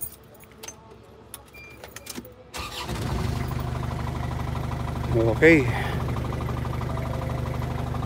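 An Isuzu camper van engine cranks and starts, then settles into a steady low idle; a keys jangle and a short spoken word come just before.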